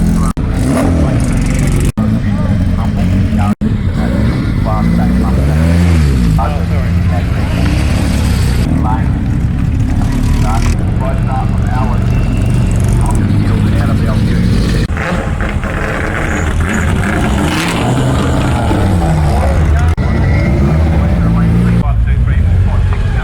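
Historic Group S series racing cars at Phillip Island's classic motorsport festival, engines roaring and revving past at varying distance, with a narrator speaking over the continuous racing noise.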